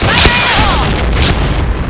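Grenade blast in the shooter game Point Blank, a loud booming burst with a bright crack near the start and a second flare later, over a dense, continuous roar of game noise.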